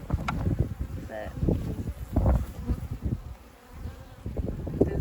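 Honeybees buzz around beehive frames with fresh wax on a farm, a close, wavering drone rising and dipping while a person speaks at times.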